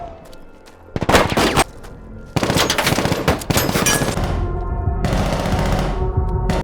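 Loud bursts of automatic gunfire in an action movie scene, rapid rattling volleys broken by short pauses, dense and close with no talk over them.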